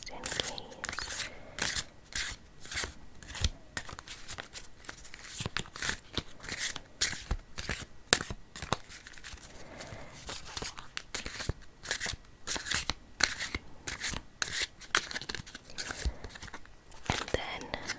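Rapid, irregular papery flutters and crisp snaps of playing cards from a Would You Rather card game being shuffled, close and busy, repeating in quick bursts throughout.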